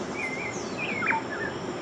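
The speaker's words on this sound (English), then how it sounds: "Elise woke up to the sound of birds chirping." Birds in a jungle setting chirp in a few short, high tweets, heard alone over a steady hiss for just under two seconds.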